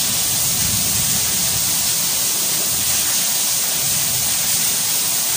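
Rain falling steadily, a loud, unbroken broadband hiss with no distinct drops or voices, constant from start to finish.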